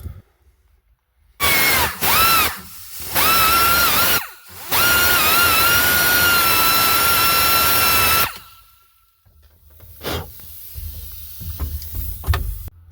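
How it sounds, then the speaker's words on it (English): A high-pitched die grinder fitted with a 1/4-inch drill bit whines loudly in several bursts, spinning up and drilling a hole, then stops, leaving quieter handling noises and clatter. "Just using a die grinder with a 1/4-inch drill bit chucked up into it."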